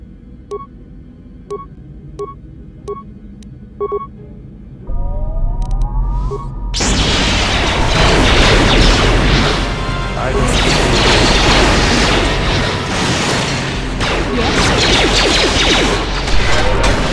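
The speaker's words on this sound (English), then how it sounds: "the bombs they're dropping will kill us all." Bombs exploding in the Star Wars: Knights of the Old Republic video game, heard as a loud, sustained roar of blasts and crashing debris that sets in abruptly after a few soft beeps and continues densely to the end.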